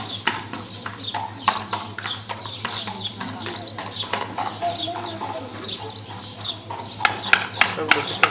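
A horse's hooves clip-clop on a hard surface during farrier shoeing, with irregular, sharp knocks close by. Birds chirp in the background, and people talk in French.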